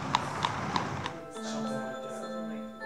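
Horse hooves clip-clop from a horse-drawn buggy in a rural community, four evenly spaced clear taps that give way to a sustained hum with a voice underneath.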